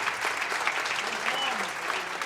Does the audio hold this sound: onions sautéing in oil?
no